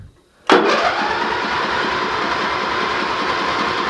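A Derby lawnmower engine catches after a short pull and settles into a loud, steady, close chugging idle with a rapid regular putter.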